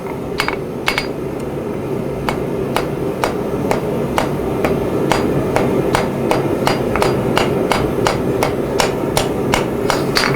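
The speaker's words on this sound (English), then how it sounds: "Chop in with the flat side of my hammer" A blacksmith forges a flower-shaped key, striking hot metal with the flat side of a hammer in a steady series of about two dozen sharp ringing blows, close and loud, with no speech.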